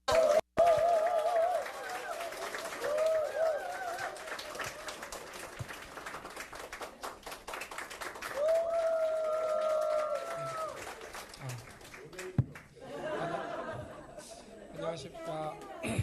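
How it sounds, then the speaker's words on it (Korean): An audience at a lecture hall in Jeonju claps steadily to welcome a lecturer on AI policy, soft and continuous under an announcer's voice and brief tonal music. "하정우 수석님을 큰 박수로 모시겠습니다"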